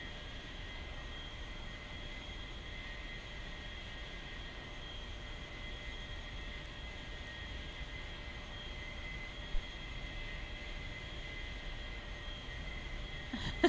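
Steady airplane engine drone in a video game as the aircraft taxis toward the runway, a continuous even hum with a faint whine running unbroken throughout, fairly quiet and with no one talking over it.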